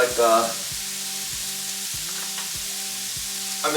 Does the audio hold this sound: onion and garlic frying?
yes